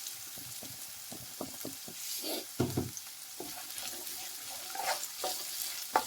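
Diced onion with a little salt being stirred in a pan while cooking for a prawn roast: a steady soft sizzle with repeated scraping and stirring taps, close and moderate in volume, with no voices.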